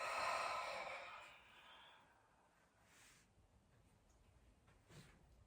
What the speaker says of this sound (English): Exhale, wide mouth.